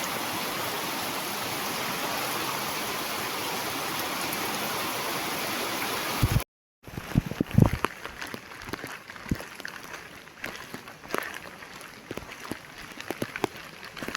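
Heavy rain pours steadily on a village as a dense, even hiss for several seconds, then cuts off and gives way to scattered louder knocks and handling noises.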